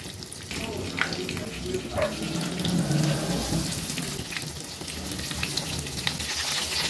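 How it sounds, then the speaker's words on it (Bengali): Prawn cutlets are slipped one by one into hot white oil in a kadai, setting off a continuous hissing sizzle with watery crackle, moderately close and steady throughout. "এখন কাটলেটগুলো গরম তেলে এক এক করে ছেড়ে দেব।"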